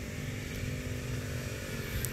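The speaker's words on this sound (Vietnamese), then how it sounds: "Con này thì là nó sử dụng cái động cơ hai kỳ," A Koshin 25cc two-stroke mini water pump engine runs at a steady, buzzy idle, droning continuously and fairly close without pauses or changes in pace.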